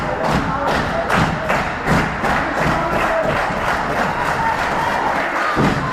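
Wrestling arena crowd with a steady roar and rhythmic thumps about every half second, like stomping or ring impacts, with occasional shouts and cheers rising over it and commentators talking.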